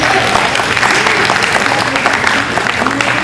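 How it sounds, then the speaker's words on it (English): Warm, steady applause from the audience at a Grade 8 graduation ceremony honouring the school principal, many hands clapping close and loud for a few seconds with a murmur of voices underneath. "Please give a round of applause to him."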